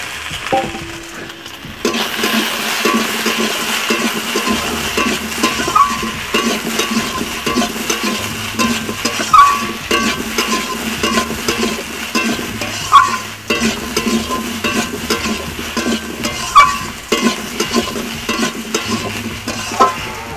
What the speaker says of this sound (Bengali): আর যে আলু বেগুনগুলো কুটে রেখেছিলাম, সেগুলো এখন আমি কড়াতে উঠিয়ে দিচ্ছি।